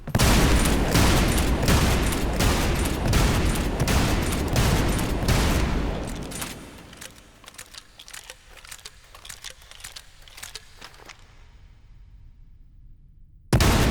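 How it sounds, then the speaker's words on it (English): Rapid, booming shotgun blasts in the video game Trepang2 fire one after another in a heavy barrage, then thin out into scattered fainter shots before a final sudden burst. "Are you getting tired of the shotgun sounds yet?"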